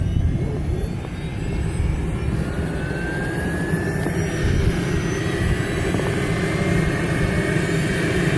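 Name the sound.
medical helicopter engine starting up for departure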